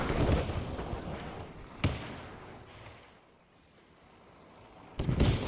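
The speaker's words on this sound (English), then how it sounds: "Enemy artillery guns still active." Enemy artillery guns fire in a Men of War II Normandy 1944 battle, with a sharp distant boom, a quieter stretch of rumbling ambience, then a heavier burst of blasts near the end.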